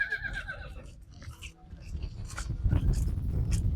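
A horse at the Yeola horse market gives a clear, nearby whinny at the start, followed by a rustling, thumping crowd and animal noise at the livestock market.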